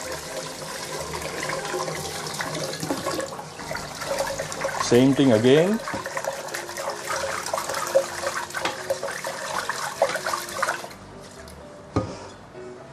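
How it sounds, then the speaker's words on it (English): Milky rice-washing water being poured away from a pot of rice, heard as a running, splashing stream of water under a person talking, with a brief gurgling swirl midway. "And then pour away the milky water."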